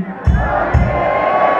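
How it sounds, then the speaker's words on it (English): Concert crowd in Orlando yelling a single word back at a band on stage, two loud massed shouts about half a second apart, followed by sustained cheering and roar. "I need all of you guys to yell Nugget back as loud as you possibly can"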